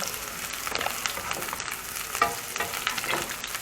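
Garlic and onion frying in oil for Filipino udon noodles with sardines, a busy close sizzle broken by stirring scrapes and brief crackles, steady throughout with no talking.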